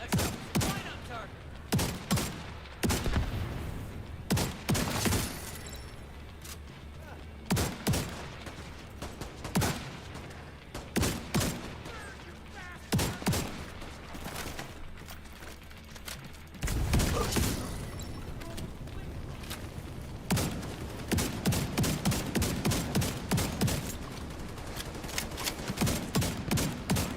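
Gunfire in the video game Division 2: repeated sharp bursts of rifle shots in clusters, loud and close, with a dense rapid volley in the final stretch, and occasional game voice in between.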